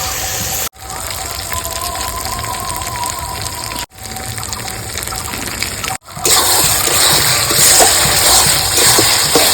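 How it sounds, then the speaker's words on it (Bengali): Water goes into cooking chicken curry masala in a pan, giving a loud, rushing hiss and splatter broken by a few abrupt cuts and swelling louder toward the end, with no clear talk. "সামান্য জল দিয়ে দেবো, মশলাটা তাহলে নিচ থেকে ধরে যাবে না।"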